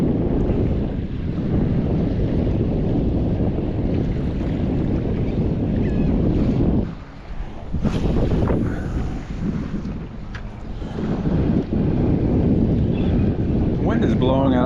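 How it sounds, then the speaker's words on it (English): Strong wind buffets a small fishing boat on open water off Biloxi, Mississippi. Loud, steady gusts rumble across the microphone, and waves slap faintly beneath them. "Wind is blowing out of the northeast"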